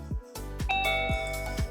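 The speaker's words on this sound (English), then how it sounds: "with the Youkey video doorbell" A Youkey video doorbell chime rings out loud and clear, with a few struck tones followed by a sustained ringing note, close-up and with no talking.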